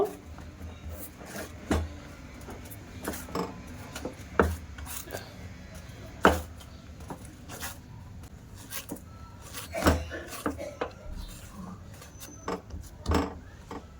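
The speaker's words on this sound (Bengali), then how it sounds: "কাঠের উপরে দিয়ে এবার ভালো করে চটকে চটকে মেখে নেব।" Sweet dough for colorful mishti pressed and kneaded on a wooden board, giving a long run of soft irregular thuds and rubbing knocks, quiet and close, with no speech.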